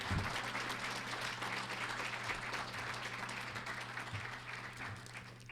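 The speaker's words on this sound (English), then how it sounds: "Please, a round of applause for Nick." A room full of people applauds at an evening talk at a wellness center, steady close clapping with a low hum running underneath.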